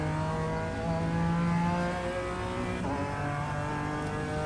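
BMW M4 G82 GT4 race car engine at Circuit Zolder in iRacing, steady loud close engine note climbing in pitch through the gears, with brief dips at each shift.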